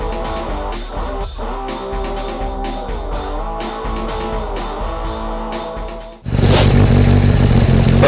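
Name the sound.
ZZR1200 motorcycle engine running in snow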